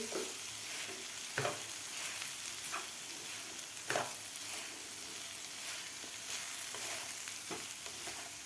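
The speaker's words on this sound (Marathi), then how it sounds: "आता व्यवस्थित आपल्याला हे मिक्स करून घ्यायचं आहे खालच्या मसाल्यामध्ये" Spatula stirring egg bhurji into a frying onion-tomato masala in a pan, a continuous sizzle with repeated scraping strokes and a few sharp clicks against the metal, close up, with no talking.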